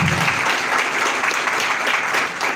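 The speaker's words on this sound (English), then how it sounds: "Let's give a round of applause to them as well." Audience applause at a launch event in Zambia, a dense, steady wash of many hands clapping that fills the whole stretch at moderate loudness.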